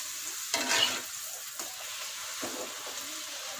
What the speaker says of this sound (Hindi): पहले से गरम किए हुए सही अच्छे से गरम ऑयल में हमने डालना है।